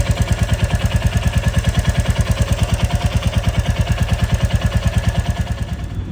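A Royal Enfield motorcycle with a FuelX Pro Plus module, running on E20 fuel, idles at the first start of the day, giving a loud, close, steady thumping beat of evenly spaced single-cylinder pulses that continue without pause.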